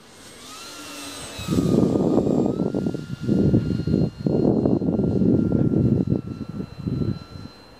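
Hawker Hurricane engine climbing at half throttle, a loud sustained roar with pulsing, wavering surges and brief dips, steady drone throughout after a quieter start.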